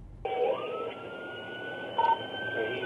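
A police car siren in a pursuit on a traffic road switches on abruptly, a loud, close, steady electronic wail that holds with a brief warble near the end.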